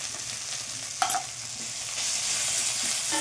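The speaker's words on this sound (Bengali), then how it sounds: "এটা ভালো করে নাড়াচাড়া করে আদা রসুনটাকে কষিয়ে নেবো।" Ginger and garlic paste sizzles in a little oil in a pan, a steady soft frying hiss with a brief scrape of stirring partway through; the sizzle grows a bit louder toward the end.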